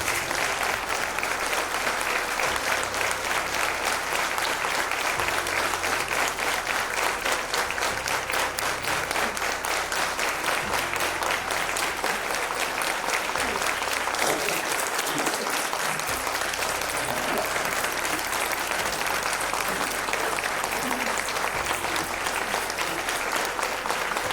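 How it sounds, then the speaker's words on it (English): An audience stands and claps at length for a war hero, a retired brigadier, at an Independence Day event; dense, steady applause fills the whole stretch without letup. "we should stand and clap for him for some time"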